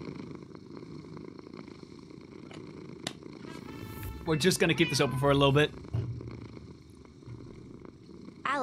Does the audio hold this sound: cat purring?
yes